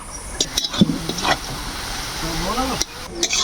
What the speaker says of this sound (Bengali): পেঁয়াজ গিলা একদম বেরেস্তার মতন ভাজি নিব